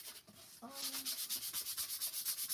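Rhythmic back-and-forth hand sanding strokes on a Dollar Tree autumn decor piece, close and fairly quiet, start after a brief tone and repeat steadily in quick regular passes.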